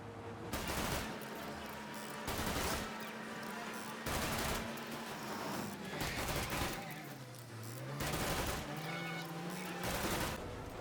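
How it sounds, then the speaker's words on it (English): Gunfire in the Mafia video game, repeated loud bursts of shots in quick clusters over a steady backdrop of game sound and music. "I'm shooting at this guy"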